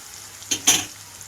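Chopped onions and green chillies go into a hot pan of spluttering spices for an ivy gourd masala curry. Two short, sharp bursts of hissing sizzle stand out against a quiet background.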